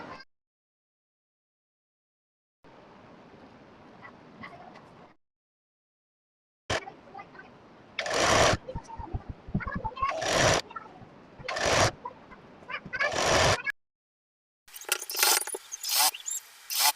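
A sewing machine stitches a belt onto a bridal lehenga in several short, loud bursts separated by pauses, with quieter mechanical handling sounds before them.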